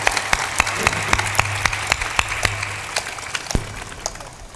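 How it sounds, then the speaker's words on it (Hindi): An audience at a devotional bhajan gathering, mostly women, claps in a steady rhythmic beat. The sharp, even claps repeat throughout over a low hum, moderately loud and without talk. "ताली बजाने में महिलाओं का फर्स्ट नंबर है"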